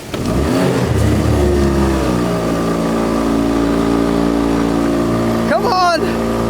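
A truck engine revs steadily in the mid-low range while an outboard motor, a cheap imitation Yamaha, holds it back on a ramp. The combined engine drone stays loud and continuous, and a brief voice cuts in near the end.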